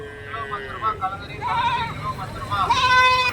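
Goats and kids bleat at the weekly Kundarapalli goat market in Krishnagiri district, several overlapping near calls, with people talking throughout.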